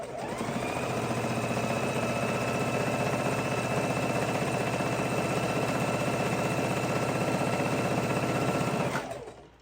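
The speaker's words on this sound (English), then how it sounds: "we're going to go ahead and sew it corner to corner" A sewing machine runs steadily for about nine seconds, stitching corner to corner across a 10-inch fabric square for a soup bowl cozy, with a loud, even motor whir and rapid needle rhythm that stops abruptly near the end.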